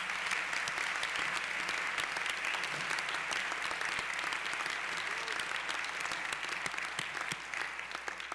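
Steady, dense applause from a seated audience for the UNC Wind Ensemble at a University Day ceremony, sustained and even throughout without a break.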